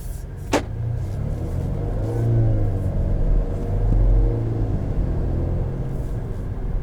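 A 2019 Volvo S60 T6 R-Design AWD engine hums steadily while driving, a smooth low rumble with a couple of gentle swells in pitch.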